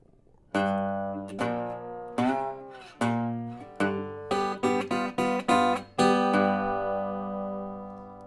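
A blues phrase on slide guitar: plucked, ringing notes gliding between pitches on the 5th string, building to a quick run and a sustained final note.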